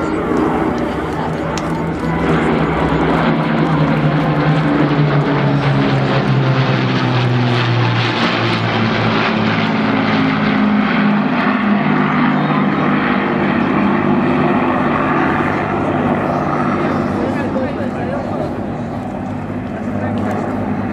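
WWII propeller aircraft powered by Merlin engines at the Shoreham Airshow, giving a loud, steady droning roar that holds for about twenty seconds, with a commentator talking over it.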